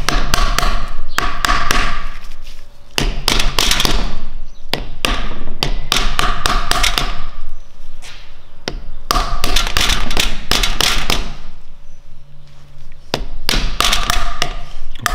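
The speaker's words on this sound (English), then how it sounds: "I'm going to use the hammer." Repeated loud metallic hammer taps on a BMW E36 limited-slip differential cap come in quick bursts with short pauses between, close up.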